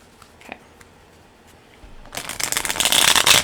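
A new, slightly stiff Meow Wolf tarot deck, standard playing-card size, is bridge-shuffled by hand, giving a close, loud burst of rapid riffling flutter after a few faint handling taps.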